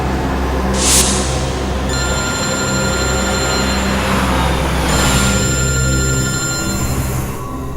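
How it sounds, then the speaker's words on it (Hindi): A telephone rings with a steady electronic trill, repeating through the clip over a low rumbling background hum. "एसीपी साहब का फोन?"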